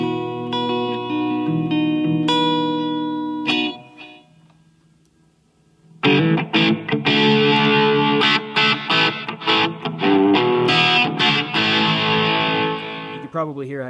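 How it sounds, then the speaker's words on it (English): A heavily distorted electric guitar played through a Blackstar ID: Core 10 amp rings out in sustained chords, pauses briefly, then returns with loud, crunchy riffing and fast picked notes. "a six-channel guitar amp, everything from a really rocking, heavy distortion sound"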